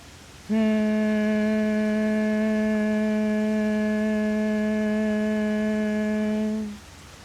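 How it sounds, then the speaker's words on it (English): A single voice hums one steady, sustained tone on a long exhale during a humming breath exercise. The hum starts abruptly, holds evenly for about six seconds and fades at the end, clear and close. "Breathing in, and then on your exhale, we'll hum."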